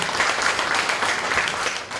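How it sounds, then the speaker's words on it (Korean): Audience applause at a university labor union general assembly, a brief burst of dense, steady clapping from a crowd in a hall. "박수 부탁드리겠습니다."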